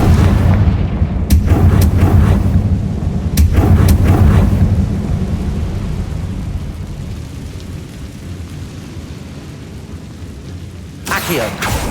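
A Confringo spell fired in Hogwarts Legacy sets off a heavy booming blast, with several loud explosive thuds early on and a long rumbling tail that slowly fades, followed by a brief crackle near the end.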